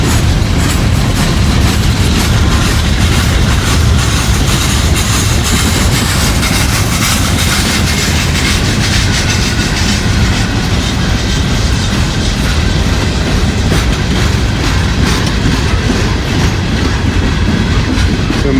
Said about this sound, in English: Empty coal train.